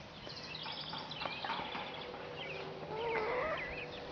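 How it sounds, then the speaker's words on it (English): Chickens cluck and squawk in a steady, overlapping chorus nearby, with one hen's call rising higher near the end; no one speaks. "So, those are our chickens."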